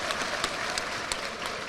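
Audience applause at a panchayat secretaries' convention in Madhya Pradesh: dense, steady clapping from a large crowd throughout, with a few sharper claps standing out.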